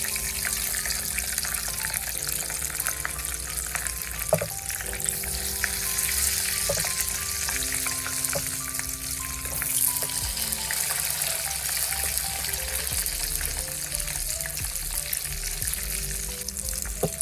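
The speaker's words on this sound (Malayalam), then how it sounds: "നമുക്കത് തിരിച്ചും മറിച്ചും ഇട്ട് നല്ലതുപോലെ ഫ്രൈ ചെയ്തെടുക്കാവുന്നതാണ്" Brinjal slices frying in hot oil in a pan, a steady close sizzle running throughout with occasional louder spits and crackles, no voices.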